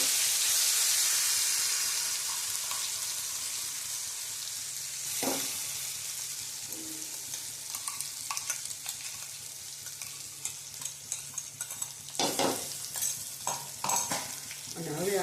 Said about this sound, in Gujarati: હવે આપણે આને તેલમાં તળવા દેવાનું મસ્ત, અને હલાવ્યા જ કરવાનું